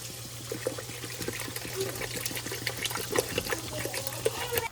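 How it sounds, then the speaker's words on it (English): Water poured into a pot on a stovetop burner set to medium-high heat, a steady close trickle and splash running throughout at low level. "I'm gonna add this water in"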